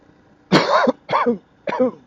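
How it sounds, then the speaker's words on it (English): Three harsh, throaty coughs from a sick person in quick succession, loud and close, the first longest and the next two shorter. "Sorry about the coughing."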